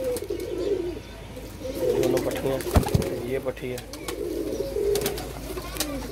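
Pigeons kept on a rooftop coo in low repeated throaty phrases close by, with wing flutters and sharp clatters, while someone talks over them.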